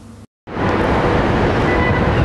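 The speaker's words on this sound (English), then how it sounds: "There is traffic down there, road and vehicle sounds, and there is also some wind" Outdoor traffic with road and vehicle sounds plus wind, a loud continuous broadband rumble that cuts in after a brief silent gap and stays steady to the end.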